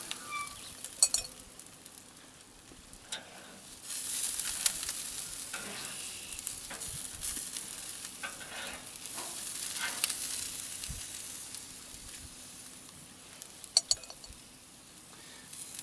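Buffalo chicken sizzling on the grate of a Dyna Glo smoker as the pieces are flipped, a soft steady fry with scattered clinks and scrapes of tongs, no talking.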